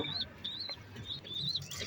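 Pigeons being fed, a few short high-pitched chirps in quick rising-and-falling bursts, close and fairly faint over a quiet background.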